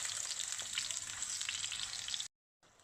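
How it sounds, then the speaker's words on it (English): Potatoes for Bombay chicken biryani fry in shallow oil, giving a steady, close, bright sizzle with faint crackles that runs unbroken for about two seconds, then cuts to silence and resumes briefly. "You fry them in a shallow oil"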